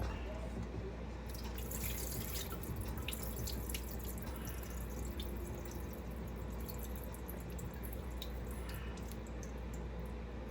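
Tap water runs steadily into a kitchen sink while food is rinsed for a Jamaican ackee and cod meal, a constant splashing hiss with small clinks and handling noises throughout.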